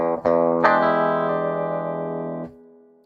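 A distorted electric guitar chord strummed and left ringing through a tiny speaker cabinet, sounding thin and boxy, then cut off.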